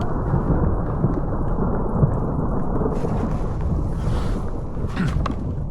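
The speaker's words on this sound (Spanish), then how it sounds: "No sé si oís los truenos" Deep rumbling of thunder rolls on continuously beneath wind buffeting the microphone, with light rain hissing faintly in the background, at the start of a hiking route.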